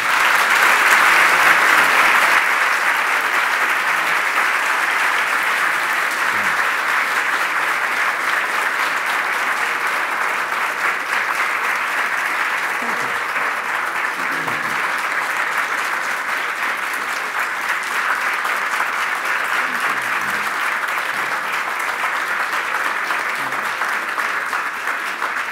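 Sustained audience applause closes a panel discussion about the Cyrus Cylinder, a dense, steady wash of clapping from a large hall audience that holds at an even level for the whole stretch.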